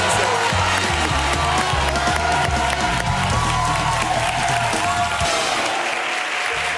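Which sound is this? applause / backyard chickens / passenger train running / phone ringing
applause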